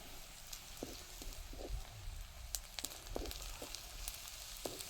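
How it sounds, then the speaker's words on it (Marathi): Grated coconut fries in hot oil with a soft, steady sizzle, punctuated by scattered crackles and pops and a few light stirring scrapes, fairly quiet and close with no talking. "आपण खिसलेलं खोबरं हे तेलात टाकून घ्यायचं आणि चांगलं परतून घ्यायचं"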